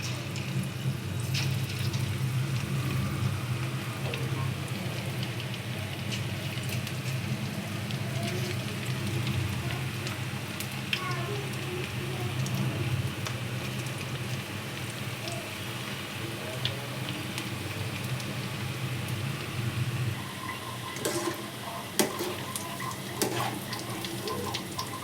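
Onion pakoda batter fries in hot oil with a continuous, close, hissing sizzle that stays loud and even throughout, broken by a few sharp clinks and pops.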